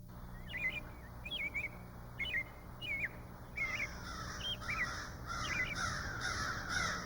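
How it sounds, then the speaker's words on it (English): Crow-like calls ring out in Chicago, a run of short harsh caws repeated every half second or so, moderately distant over a steady low outdoor rumble, with no talk. "you've forgotten the names of birds. Whose call is this? And calling whom?"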